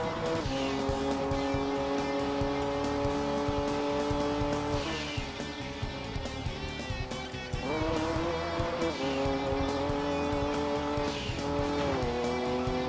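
Toyota GT1 race car in Gran Turismo 2 on the Super Speedway, a loud steady engine drone with rising and falling pitch as gears change, mixed with tire squeal through the corners.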